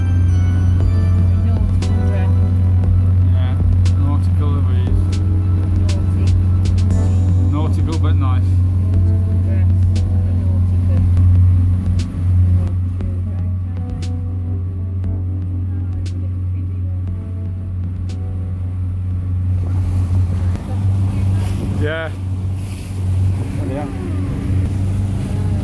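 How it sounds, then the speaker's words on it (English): Twin diesel engines of a boat cruising the Gloucester and Sharpness Ship Canal, a steady low throbbing drone close by throughout, with people chatting over it. "That sounds nice, doesn't it? Yeah, twin diesel."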